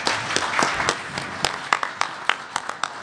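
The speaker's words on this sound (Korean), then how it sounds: "박수로 맞이해 주십시오." Applause from a seated audience welcoming a former National Assembly speaker at a press forum, steady clapping that thins into scattered individual claps by the end.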